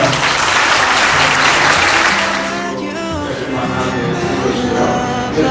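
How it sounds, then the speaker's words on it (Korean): Applause from wedding guests right after the couple is pronounced married at a church wedding ceremony, a steady loud clapping that eases slightly midway, with a low hum of voices and music beneath. "모두 큰 박수 부탁드립니다"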